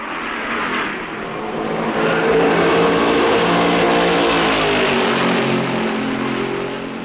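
Stock cars race flat out at the 1965 Darlington Southern 500, a loud, sustained roar of engines sweeping past close by, swelling and fading as the pack passes, with no talk.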